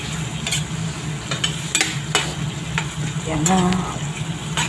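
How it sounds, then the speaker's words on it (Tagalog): Squid sizzles and spatters in a hot pan while a spatula stirs it, with steady frying crackle throughout, a few scraping stirs, and a brief spoken word near the end. "haluin natin saglitan ng panuluto para hindi siya matigas"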